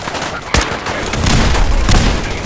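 Cannon warning shots in Fallout 4, a sharp loud boom near the start followed by rumbling, sustained blasts and another report, close and dominant with no talk.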